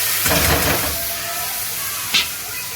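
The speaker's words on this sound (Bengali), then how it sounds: "চলো কড়াইয়ে রসুন দিয়ে দিয়েছি তো এবার শাকটা ফোড়ন দিয়ে দেবো" Leafy greens dropped into hot oil with garlic tempering in a kadai, giving a loud, hissing, steam-like sizzle at the start that settles into a softer hiss, with a brief sharp flare near the end.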